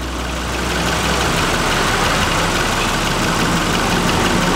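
Suzuki Splash engine idling after being repaired for a stalling fault, a steady, continuous mid-level running hum with a faint low rumble and a tapping texture, close by with no talking.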